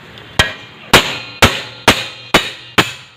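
Hammer blows knocking out a bushing on a motorcycle main stand, six sharp metallic strikes at a steady rhythm, loud and close with short ringing decays and no talk.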